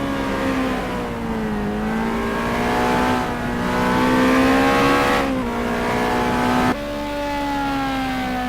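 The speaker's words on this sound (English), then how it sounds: "We have Brad Duplessis just squeezing the throttle there" A mid-engine race car in a sim racing game at Spa howls through rising engine pitch, with gear shifts breaking the steady drone as it accelerates continuously.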